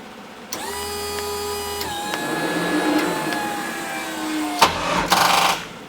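An LS3 engine swapped into an S-chassis fails to crank on a dead battery, leaving a steady electrical whine and hum, then a few sharp clicks and a brief burst of noise near the end.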